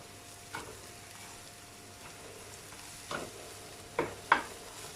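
Pieces of fried cauliflower being stirred and sautéed in a pan for cauliflower chilli fry, with soft scraping and a few sharper utensil knocks over a quiet, faint sizzle.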